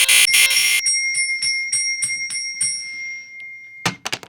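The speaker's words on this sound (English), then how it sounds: "Oh geez, you set off the alarm." A smoke alarm goes off indoors, a loud piercing electronic tone that fires in rapid bursts and then keeps beeping in a regular rhythm while fading, before a few sharp knocking sounds at the end.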